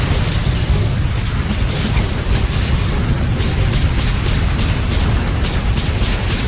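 Loud, continuous rumbling booms and bursts of thunder-ball explosions crashing down at the edge of a valley, a dense sustained barrage with repeated impacts and no pauses.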